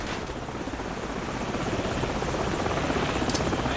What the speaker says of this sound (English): Heads up! Chopper's in back!